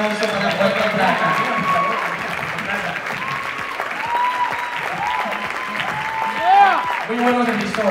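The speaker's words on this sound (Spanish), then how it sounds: "Un gran aplauso para Puerto Plata" Steady crowd applause at the Miss Hispanic International USA 2013 pageant in honor of Puerto Plata, with music underneath and voices mixed in throughout.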